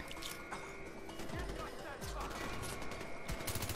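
Gunfire from shooting at enemies in Far Cry 4, a dense burst of rapid shots running through the clip under continuous game noise, with some low thuds partway through.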